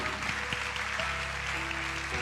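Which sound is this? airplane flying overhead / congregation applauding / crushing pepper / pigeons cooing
congregation applauding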